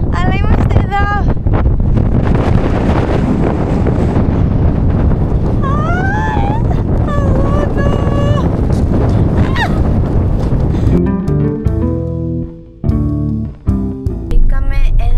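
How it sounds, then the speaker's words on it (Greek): Strong wind buffets the microphone outdoors during a road trip, a loud continuous low roar that swells and eases, with voices briefly audible through it. "Φυσάει άπειρα, αλλά είμαστε εδώ."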